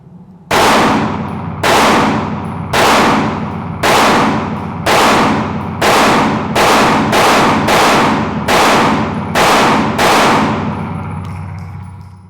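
An HK VP9CC pistol firing 115 grain 9mm full metal jacket rounds at a range: about a dozen sharp, loud shots at a steady, evenly spaced pace, each ringing out briefly.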